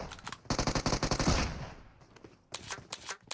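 Rapid repeated blasts from an S12K shotgun in a PUBG Mobile match, a fast burst of shots at the start, a short lull, then another volley near the end, with no talk over them.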